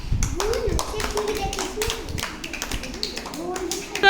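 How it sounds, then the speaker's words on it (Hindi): Children clap in a classroom during a literacy lesson, a run of sharp taps and claps mixed with the loud voices of a child and a teacher speaking over them, close by. "ताली दियो।"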